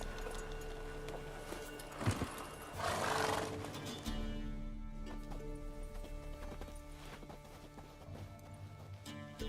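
Roach the horse gallops in The Witcher 3, hooves clopping steadily with a whinny-like burst and a rising rush early on, layered over game ambience and music-like tones throughout.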